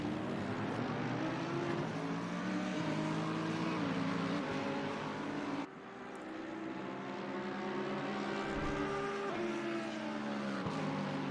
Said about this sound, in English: So we have this little train of 4 cars passing through.